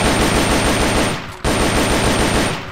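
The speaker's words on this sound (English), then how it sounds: "Shot fired!" Rapid machine gun fire in the Metal Gear Solid video game, loud, continuous and close, with a brief break midway before the burst resumes.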